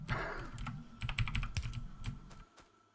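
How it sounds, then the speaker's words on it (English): A loud, clicky computer keyboard is typed on in close, rapid bursts of sharp key strikes that trail off near the end. "And I do have loud clicky keyboard, so that's always a thing."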